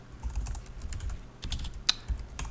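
Rapid keystrokes on a computer keyboard come in an uneven run of close, light clicks, with one sharper tap near the end and no voices.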